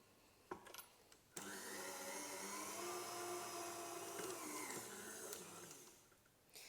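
An electric mixer whirs steadily while blending biscuit dough, a sustained close motor drone lasting several seconds after two brief clicks, then winding down near the end.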